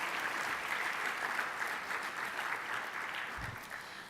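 Continuous applause from the audience at a clinical trials research showcase, moderately loud and even, with no talking over it.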